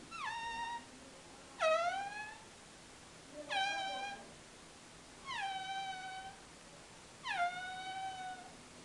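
A human voice mimics a two-month-old kitten meowing for milk, five thin rising-falling mews spaced about two seconds apart, close and fairly quiet with no speech.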